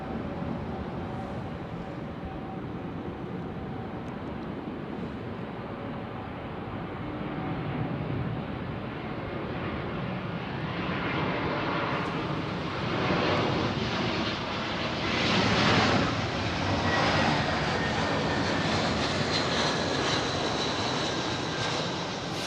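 A jet airliner at London Heathrow Airport roars steadily, rising from a distant rumble to a loud, close whine as it passes, with a little wind noise and no talk.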